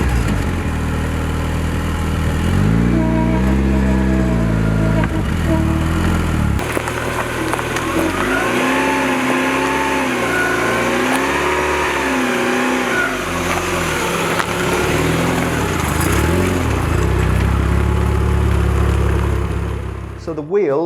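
A 1991 Volkswagen Golf GTI Mk2 16v fitted with a Turbonetics turbo runs nearby, idling then revving repeatedly in rising and falling sweeps, loud throughout, with a person talking over it.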